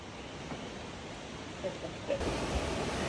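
A strong river current rushes over rocks at Tinipak River, a steady broad roar of water that swells slightly near the end, with some wind buffeting the microphone.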